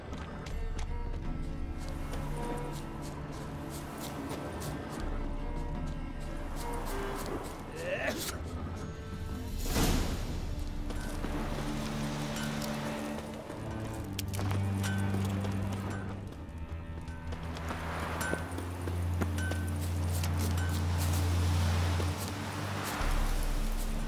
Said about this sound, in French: De sabots.